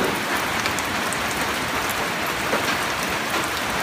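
Light drizzling rain patters evenly and constantly on the surroundings, a dense close hiss of fine drops with no pauses or other sounds.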